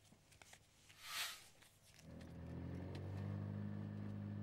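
A small microcar engine idles and then drones steadily as the vehicle pulls away, preceded by a brief whoosh of passing noise.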